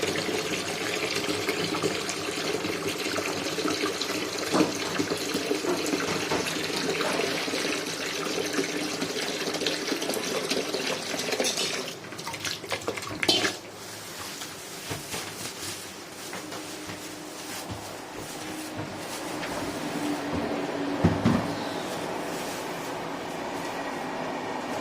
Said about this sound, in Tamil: நம்ம ஒரு வாளியில் ஒரு அரை வாளி வரைக்கும் நான் தண்ணி எடுத்துக்கிறேன்